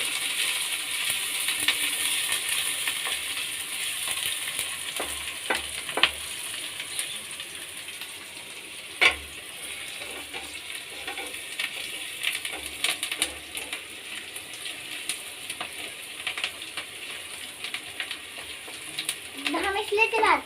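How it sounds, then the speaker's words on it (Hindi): Onions for chana masala fry in a pan while being stirred, a low continuous sizzle broken by occasional clinks and scrapes of the spoon against the pan. "अब हम इसे थोड़ा सा चलाएंगे।"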